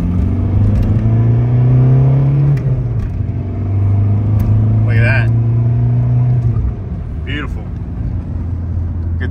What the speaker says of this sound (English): Gonna do a little second gear pull here and see how the boost pressure is.